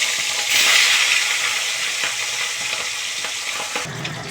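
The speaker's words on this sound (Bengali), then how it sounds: "এই যে মাছ ভাজছি" Fish pieces fry in hot oil with a loud, close, steady crackle, briefly swelling at the start, and occasional knocks and scrapes of a utensil against the pan.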